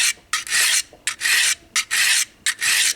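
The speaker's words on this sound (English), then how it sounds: "as that blade is coming over, it's not really catching on those scallops as much" A knife blade drawn over a Harbor Freight diamond hone block, five steady rasping strokes in an even rhythm with brief pauses between, close and clear with no talking.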